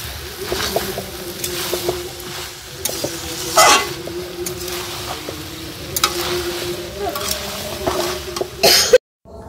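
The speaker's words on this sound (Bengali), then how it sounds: "ঘুগনিতে গরম জল দেবো" Hot water goes into a pan of simmering ghugni, raising a steady close sizzle with scraping stirs and a couple of sharper splashy bursts before it cuts off abruptly.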